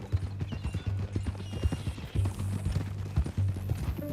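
Horse hooves clip-clopping on a trail in Red Dead Redemption 2, a steady rhythmic gait of close, distinct thuds with a faint whinny and light ambient noise behind.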